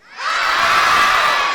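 Children shout and cheer together at full volume inside a wedding hall during a live student training session, a loud sustained crowd roar that swells quickly and holds steady.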